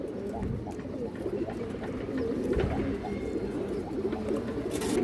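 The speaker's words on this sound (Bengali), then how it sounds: "পুরনো ব্র্যান্ডের গিরিবাস সবজি কবুতার হাই কোয়ালিটির" Giribaz pigeons cooing steadily at close range, a low continuous warbling murmur from several birds, with a person speaking faintly underneath.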